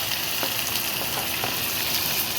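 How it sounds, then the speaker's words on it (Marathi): Chopped onion drops into hot oil with curry leaves for a raw jackfruit curry, producing a constant bright sizzle with a few faint scrapes, heard alone without any talking. "आता टाकायचा कांदा"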